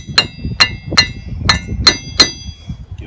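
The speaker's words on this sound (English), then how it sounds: "Give it some little taps just to make sure it's on good." A hammer tapping a Ranger Crew 900 front wheel hub onto its splines: six sharp, bright metallic taps at a steady, close rhythm, each ringing briefly, with no talking.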